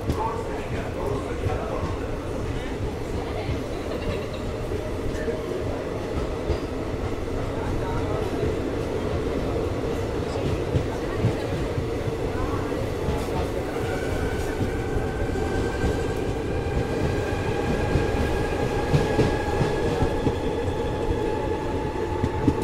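A passenger train, the Trivandrum-Shalimar Express, rumbles and rattles along the rails in a continuous loud drone heard from inside a coach. Faint voices sit beneath the steady wheel noise.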